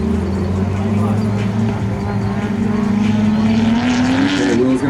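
A Nismo 370Z drift car's engine drones loudly and steadily, its pitch climbing as the car is thrown into a corner, with a voice talking over it.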